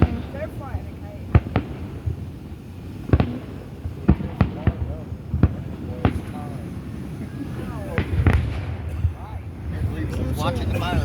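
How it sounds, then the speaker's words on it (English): Fireworks exploding at a grand finale, with repeated sharp booms and crackling bursts, some close and loud, spread irregularly throughout while people talk and react nearby. "Watching the fireworks."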